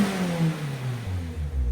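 A turbocharged car engine revs and pulls nearby, its pitch climbing steadily under a whirring turbo tone, loud and continuous with no voices.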